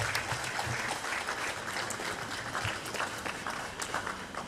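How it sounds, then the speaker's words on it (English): At a professional managers' summit, a hall audience gives the President sustained, moderately faint applause, an even patter of many hands with a murmur of voices beneath it. "Shall we sustain the applause for the President?"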